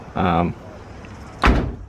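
On a Nissan S15, a car door swings shut with one solid thud near the end, after a short burst of man's speech and a quiet pause.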